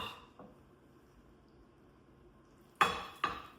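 A spoon scrapes tater tot casserole mixture of ground beef into a casserole dish, two sharp clinking scrapes near the end after quiet faint clatter.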